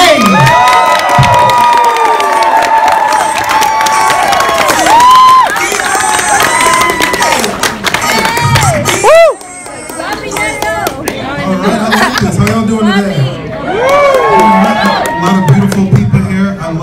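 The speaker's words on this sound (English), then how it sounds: "Let's keep clapping it up right now for your next comedian, Mr. Phillip Isme." A comedy club audience cheers and shouts loudly for a comedian coming to the stage, with whoops and chatter carrying on for the whole stretch, fading briefly before rising again.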